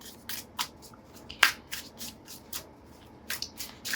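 Tarot cards being shuffled by hand, a series of short, crisp riffling and slapping bursts at an uneven pace, fairly close and quiet, with no speech.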